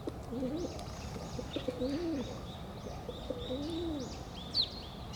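Pigeons coo in a playground in a park, several soft rolling coos repeating at a moderate distance, with sparrows chirping faintly at higher pitch over steady outdoor background noise.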